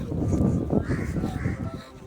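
A crow caws outdoors, harsh repeated calls blending into a continuous rough bed of noise, fairly close and loud throughout with no talking.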